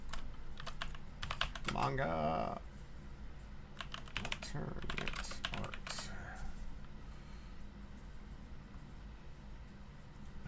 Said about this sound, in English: I'm typing it in, right?